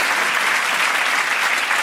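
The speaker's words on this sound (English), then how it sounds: "Round of applause for everyone who sent those in." Steady, dense audience applause at a stand-up comedy show, loud and continuous throughout with no voices on top.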